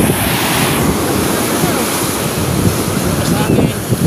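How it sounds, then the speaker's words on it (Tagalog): Ocean waves crash and churn under strong, gusting wind buffeting the microphone, a loud, continuous roar with rolling surges. "Pero medyo malalaki ang alon."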